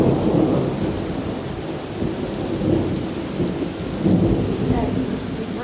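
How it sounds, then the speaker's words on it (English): Heavy rain pours steadily during a severe storm in Dubai, with low rumbling thunder swelling and fading beneath the constant loud hiss of rainfall. "The rain is really heavy."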